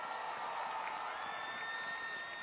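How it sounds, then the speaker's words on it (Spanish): A church congregation applauds during a worship service, steady, dense clapping heard from a distance, fairly faint and even, with a sustained tone running through it. "¡Fuerte el aplauso!"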